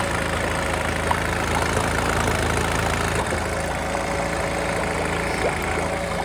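A Honda B100 four-stroke 10 hp outboard motor idles steadily while warming up, a continuous close, even mechanical drone with a faint knocking rhythm and no voices.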